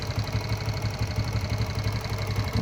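A BS6 vehicle's engine idles steadily with a continuous low rumble and even mechanical pulsing, fairly loud and close, with no talking throughout.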